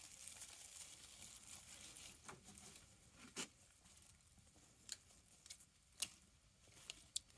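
Scissors snip through the tail of a gift ribbon in a few faint, scattered cuts, set against a soft rustling patter in a quiet room.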